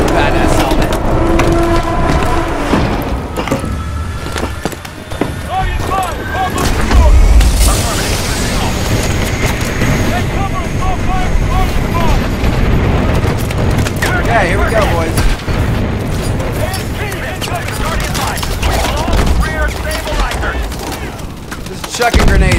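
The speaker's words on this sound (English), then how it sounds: "chucking grenades everywhere." Grenade explosions boom amid heavy gunfire during a Call of Duty: Advanced Warfare campaign mission. The battle noise is loud and dense, and a voice talks over it.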